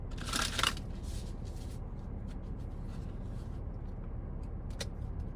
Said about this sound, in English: And then I'm going to shuffle it some more